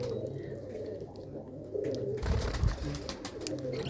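Pigeons kept by a Mansa pigeon fancier coo in low, rolling murmurs that rise and thicken midway, with a general flock bustle behind them and no talking.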